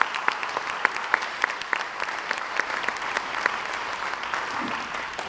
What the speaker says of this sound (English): Can we please give the foundation a round of applause for all of the volunteer hours?